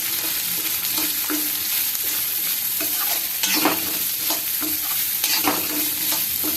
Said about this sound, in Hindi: हमें सिर्फ इसको अच्छे से सेकना है, हिलाते हुए।